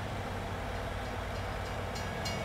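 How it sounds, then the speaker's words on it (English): A train rumbles past in Farming Simulator 19, a steady loud rolling roar with faint clatter throughout, heard alone with no talk. "train, don't you come through and knock my trailer full of soybeans"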